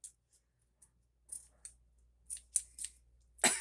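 Several crisp snips of scissors trimming paper from a 6x6 paper pad, irregularly spaced, close and quiet against near silence.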